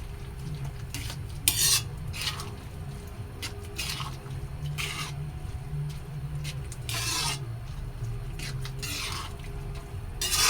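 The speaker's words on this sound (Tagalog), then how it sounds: "Hahaluin." A spoon stirs menudillo in tomato sauce in a pan, scraping the metal in repeated irregular strokes over a low steady background hum, close and moderately loud.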